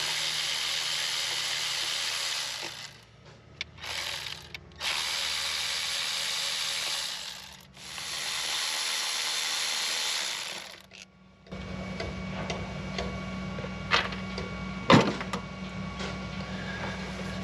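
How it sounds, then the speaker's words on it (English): Ratchet with an 8mm socket backing out the engine cover screws on a Bobcat, a steady mechanical whir and clicking that shifts into a continuous, closer grinding buzz partway through, with no talk. "We're just going to use an 8mm, and we're going to back out all these screws"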